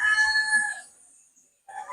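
A rooster crows at a backyard gamefowl farm, a brief, loud, harsh call that breaks off, followed by the start of another bird call, with no talking.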